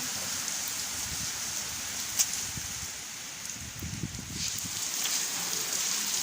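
Steady rain falls outdoors as a soft, even hiss with scattered faint patters, continuous and fairly quiet throughout.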